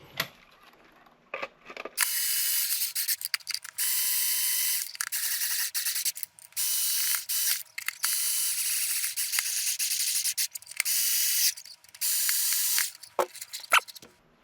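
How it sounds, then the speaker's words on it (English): Ratcheting clicks and grinding mechanism noise as the housing of a Spypoint Flex S trail camera is screwed back together, loud bursts repeating with short pauses, close up and without talk. "And we can screw this thing back home."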